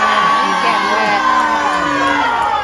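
Lively crowd at a lumberjack log-rolling show cheers, whoops and shouts continuously, with children's high yells riding over the dense, loud roar of the audience.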